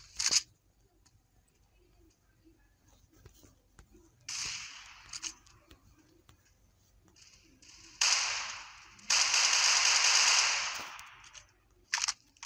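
Bursts of gunfire in the multiplayer FPS Maskgun: short snapping shots and longer sustained rattling volleys, some close and loud, separated by quieter stretches of faint game ambience.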